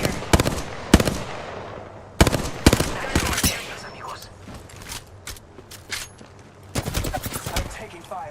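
Gunfire in an aerial combat video game crackles in sharp bursts and rapid volleys, loud and punchy, separated by short gaps with quieter mechanical game sounds in between and some talking mixed in.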